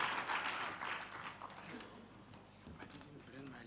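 An audience at a sector skills conference applauds to welcome the CEO, a short burst of clapping that fades gradually, with voices underneath.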